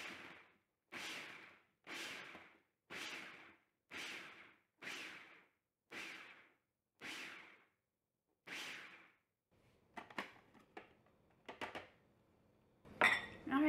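A food processor pulsing cauliflower into rice, eight short even whirring bursts about a second apart, followed by clattering of the bowl and lid.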